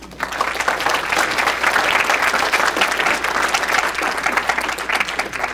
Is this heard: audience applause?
yes